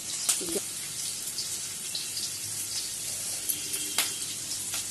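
Onion and capsicum frying in a pan give a steady, moderately loud sizzle with occasional pops and crackles.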